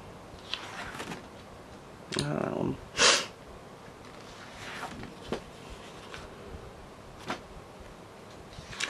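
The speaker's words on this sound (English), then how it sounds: "Can't stop sniffling though" A person with a runny nose sniffles several times at close range, short wet sniffs and one sharp, strong inhale spread across a quiet room, with no talking in between.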